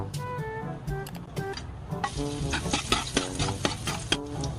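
Garlic dropped into hot cooking oil, bound for a sauce with onions and small hotdogs, gives a crackling sizzle, with the rest of the clip carrying stirring clatter and scraping over it and no talk.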